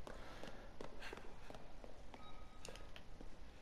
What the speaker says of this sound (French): on entend bien les bruits de pas